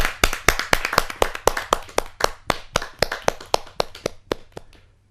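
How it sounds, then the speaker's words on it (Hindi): Audience at a Hindi kavi sammelan poetry gathering applauds to welcome a poet, with loud, crisp, evenly spaced claps that hold a steady rhythm and taper off toward the end. "जोरदार तालियों के साथ हम नंद किशोर जोशी जी का स्वागत करें।"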